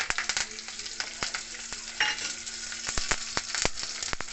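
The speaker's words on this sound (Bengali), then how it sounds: "অল্প একটু তেল দিয়েছি এবার সর্ষে আর কারি পাতা দেবো" Mustard seeds and curry leaves crackle in a little hot oil in a wok, sharp pops and spits bursting repeatedly over a low sizzling hiss, close and lively, no voices.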